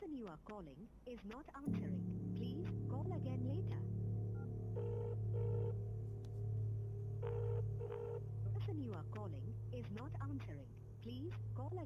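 A telephone rings in repeated electronic bursts, going on unanswered at a moderate level while chirpy background sounds flicker around it.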